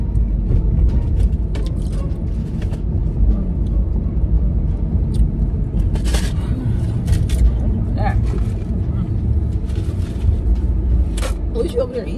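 Road traffic rolls past steadily with a continuous low rumble of passing cars, close by and fairly loud, while people talk over it.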